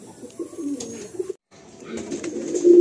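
Pigeons of a prized breeder pair coo in soft, repeated throaty phrases close by, with a brief pause midway before the cooing resumes and swells toward the end.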